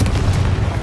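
A Confringo blasting spell going off in Hogwarts Legacy: a loud, deep booming explosion with a heavy low rumble that sustains through the moment, dense and close.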